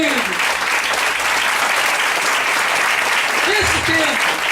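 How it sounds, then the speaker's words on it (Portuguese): Church congregation applauding steadily throughout, a loud continuous patter of many hands with voices calling out over it during a worship service. "Aplauda o Senhor, querido."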